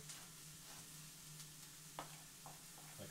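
Sliced bell peppers frying in a pan, a steady soft sizzle with faint occasional stirring taps, quiet and close.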